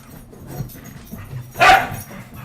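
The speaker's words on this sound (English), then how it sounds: "And the dogs are going to fight over the bone in my office." A dog lets out a single short, loud yelp or bark amid low, quiet scuffling as dogs fight over a bone in a home office.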